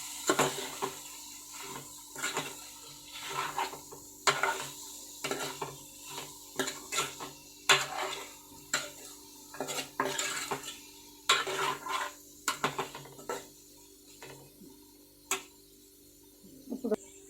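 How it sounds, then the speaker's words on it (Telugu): Bitter gourd pulusu being stirred in a pot, a steady run of scraping, clinking spoon strokes against metal with a faint sizzle beneath, close and fairly quiet, no voices. "ఇవన్నీ వేసాక ఒకసారి మళ్ళీ ఇలా కలుపుకోవాలండి"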